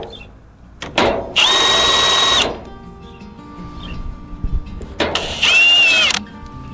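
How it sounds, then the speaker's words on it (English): Two loud bursts of a power drill boring into thin scrap steel, each lasting about a second with a high whining pitch, separated by quieter handling noise. "Oh, did I drill that out too big?"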